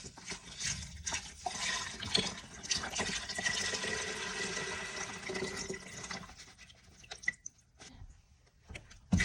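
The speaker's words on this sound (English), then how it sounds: "We're just adding the Harris Teeter chicken broth." Chicken broth poured from a carton into a pot, a continuous close liquid splash for several seconds that thins to drips and stops.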